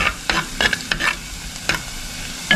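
Ginger and garlic sautéing in a pan in a small home kitchen, a close, steady sizzle with repeated sharp scrapes and taps of a spoon stirring, no talking.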